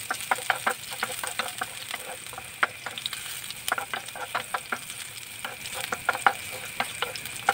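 Garlic fries in a hot pan as a spoon stirs it, giving a steady sizzle broken by frequent scraping taps, close up and with no voices.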